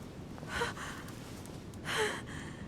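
A woman breathes in two distinct audible breaths, gasp-like and soft, spaced over a couple of seconds against quiet room tone as her breathing steadies.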